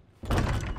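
A door opens in the Resident Evil 2 video game with one short, muffled thud and a brief rumbling swing, heard alone at moderate volume.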